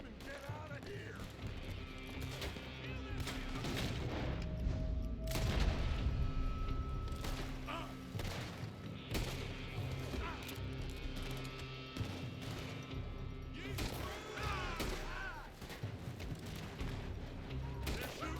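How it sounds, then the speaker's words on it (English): Red Dead Redemption 2 video game gunfight, with repeated gunshots and booming impacts over continuous music and ambience, fairly dense and sustained, with voices mixed in. "They're shooting from that building."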